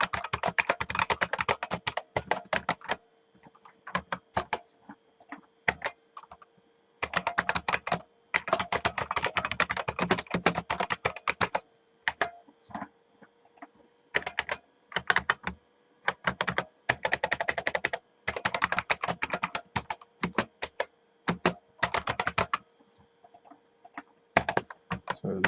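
Bursts of rapid clicky keystrokes as program code is typed on a computer keyboard, close and fairly loud, coming in irregular runs separated by short pauses.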